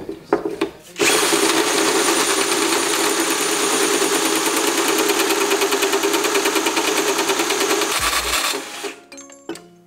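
A tubing notcher cutting through thick pipe at low speed with cutting fluid, a loud, steady, whirring grind that holds for about seven seconds close up, then stops with a clunk.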